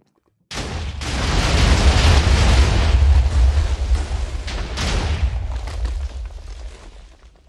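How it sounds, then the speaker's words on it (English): A huge explosion in a Minecraft map erupts suddenly after a moment of silence, then roars loud and sustained with rumbling crackle for several seconds before slowly fading. "I assumed it was going to be a big explosion."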